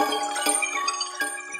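Bells ring in quick succession, bright metallic strikes with shimmering, ringing overtones, two or three clear hits close by and alone.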